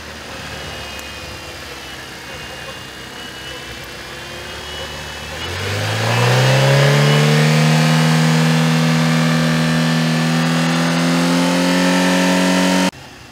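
Fiat Palio engine with an idle fluctuation fault and oil leak, running during a coolant flush: an idle hum, then the revs rise and hold at a steady loud drone before cutting off abruptly at the end.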